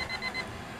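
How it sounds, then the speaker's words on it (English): A timer on a Promark P70 drone controller beeps three times in quick succession, short bright tones over steady outdoor background noise, then stops. "There goes the timer."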